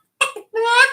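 A man imitates a chicken with short clucking vocal bursts, then a longer, sustained squawk, up close and unaccompanied.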